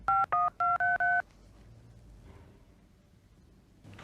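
A telephone is dialed with five quick, loud touch-tone beeps in a row, then a quiet stretch of low room noise and a faint sound near the end.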